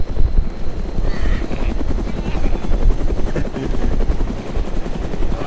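Helicopter rotor and engine in the DayZ video game on the Lingor map, a loud, steady, close buzzing thrum that runs the whole time with nobody talking.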